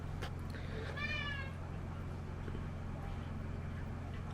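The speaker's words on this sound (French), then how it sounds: "Chubby, il fait que miauler." A pet cat named Chubby lets out a single short, clear meow at home over a steady low rumbling hum, with no one speaking.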